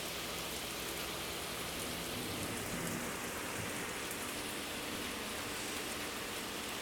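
Heavy rain pouring down outdoors during a downpour, a steady dense hiss with no pauses, loud and close, with no voices.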